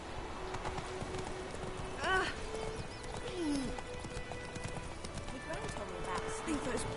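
Horse hooves clip-clop at a steady walking rhythm in The Witcher 3 video game, moderately near, with a short whinny partway through and a voice speaking over the scene.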